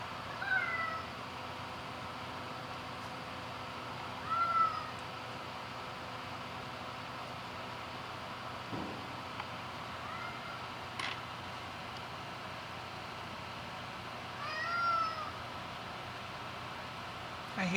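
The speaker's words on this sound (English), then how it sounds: "I hear you, cat." A cat meows a few times across the stretch, short mid-pitched calls at moderate distance over a steady room hiss, with a brief click partway through.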